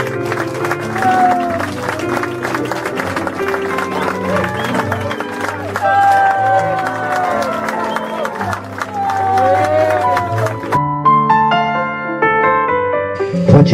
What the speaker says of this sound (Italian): Un applauso per favore.